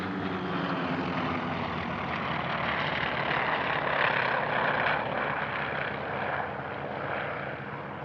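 A Douglas Skyraider piston-engine warplane flies past at the Air Legend airshow at Paris-Villaroche, its propeller engine a steady, fairly loud drone that swells slightly mid-pass and holds throughout.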